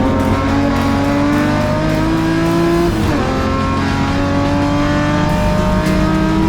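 BMW race cars of the M Performance Parts Race Series accelerate hard along the Aldo Scribante circuit, engines roaring loud and close with rising and shifting revs as several cars pass in a sustained, overlapping howl.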